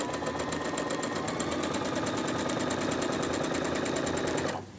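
A sewing machine stitches a flat felled seam with a fast, even mechanical whir and rapid needle clatter, steady and close for several seconds before stopping abruptly.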